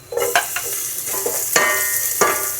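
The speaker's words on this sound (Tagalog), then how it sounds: "Maglagay po ng isang maliit na sibuyas." A small onion goes into hot oil where four garlic cloves are browning, for a stir-fried patola and misua dish: a close, steady sizzle broken by several sharp scraping stirs of a utensil in the pan.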